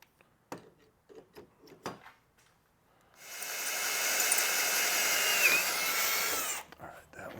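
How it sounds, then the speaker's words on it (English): A power drill bores into an assembly part, whirring steadily for a few seconds after some light tapping and handling clicks, then stopping abruptly. "Alright, that one's drilled."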